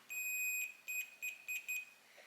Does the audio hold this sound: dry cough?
no